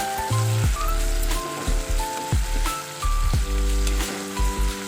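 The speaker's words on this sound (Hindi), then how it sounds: "अब इनको मसाले में भून कर अच्छी तरह फ्राई कर लिए" Masala fries in a pan with a crackling, rain-like sizzle running throughout beneath louder tonal music.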